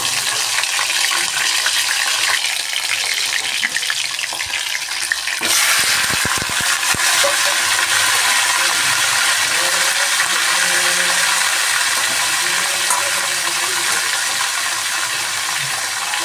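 Chicken fries in a pan with a loud, steady hiss and sizzle that jumps louder partway through, with brief scraping clatters of stirring mixed in.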